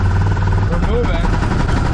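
A UTV at full throttle, its engine giving a steady, loud drone with a continuous low rumble throughout, while people talk over it.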